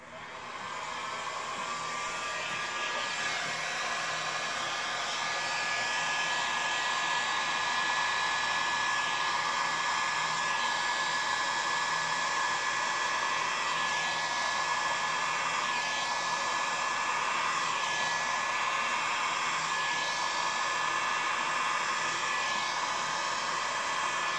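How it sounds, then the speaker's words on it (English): A heat gun blows steadily over a dirty pour of resin paint, a loud continuous hissing rush that swells in over the first seconds and then holds unbroken, with no talking. "I'm going to use my heat gun to see if maybe I can bring out some more cells"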